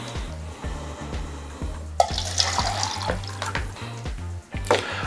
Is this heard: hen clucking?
no